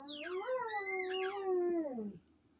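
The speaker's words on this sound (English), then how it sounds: "that's the doggy in the background wilding out" A dog howls in the background in one long, wavering, rising-and-falling cry of about two seconds, clear and moderately loud, with no talking over it.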